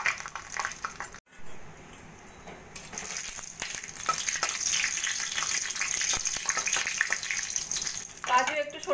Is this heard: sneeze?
no